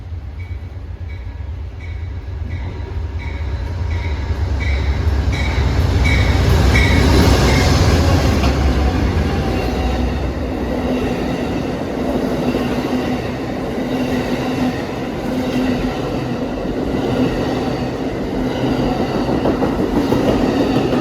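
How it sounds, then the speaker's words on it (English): Amtrak Silver Star passenger train 91 rolls past in cold rain at Fredericksburg, a loud, sustained rumble swelling as it nears, with rhythmic wheel clatter and some squeal continuing as the cars go by. "approaching is the Silver Star, train 91 from New York to Tampa and Miami"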